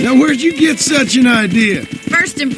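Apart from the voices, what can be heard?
No everyday noise stands out behind the speech.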